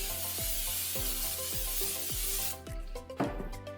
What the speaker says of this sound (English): Spray some olive oil